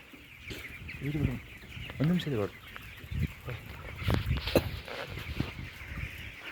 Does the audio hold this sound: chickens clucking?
yes